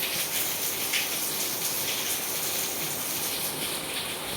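Heavy rainwater gushes on a rainy day as a steady, dense rushing wash of noise that stays close and even throughout, with no voices.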